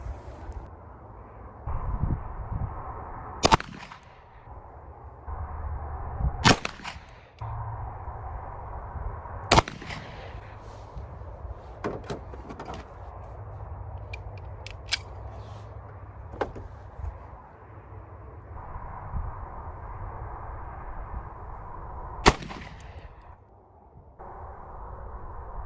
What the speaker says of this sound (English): we're gonna try another 3-shot group with both the Taurus and the